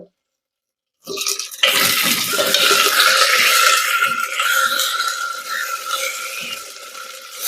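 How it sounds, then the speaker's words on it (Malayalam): Tomato dropped into a hot pan while cooking a drumstick buttermilk curry, giving a loud, steady sizzle and crackle that begins abruptly after a second of silence and carries on, slowly easing, with no talk. "അതിലേക്ക് ഞാൻ ഈ ടൊമാറ്റോ ഇടാൻ പോവാണ്"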